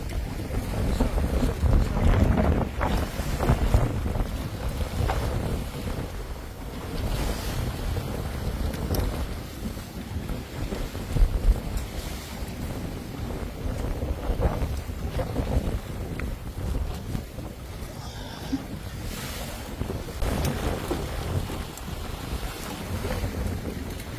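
A sailboat at sea running with the wind, a continuous loud rush of wind and water against the hull with heavy microphone buffeting and occasional faint voices.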